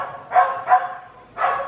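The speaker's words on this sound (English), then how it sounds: "My dogs are having a conversation with the dogs like across the street" Dogs bark back and forth with dogs across the street, three sharp mid-range barks, two close together and a third after a pause, fairly loud against a quiet background.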